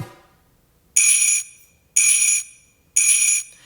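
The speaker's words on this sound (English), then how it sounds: "Funny things like sleigh bells." Three evenly spaced jingles of bright sleigh bells from a metronome app, about one per second, each a short shimmering burst with silence between.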